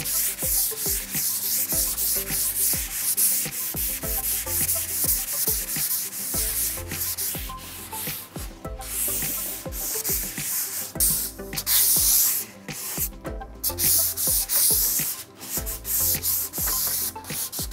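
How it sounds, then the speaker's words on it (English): Continuous hand sanding on painted French Provincial furniture between coats of Dixie Belle silk paint, close rhythmic scratchy strokes repeating steadily with no talk. "I'm just going to do that quick sand and then we'll be ready."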